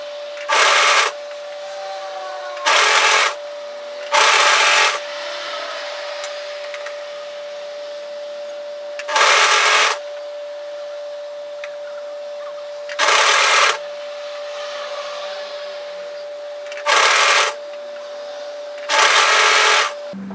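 A sewing machine stitches down the top seam of a one-shoulder top in short, evenly spaced bursts of buzzing, each about a second long, separated by quiet gaps over a faint steady hum.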